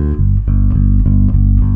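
A bass line moving off C with sixths and fifths added above the root, played as a short run of about six deep sustained notes in a steady rhythm, loud and close with no voices.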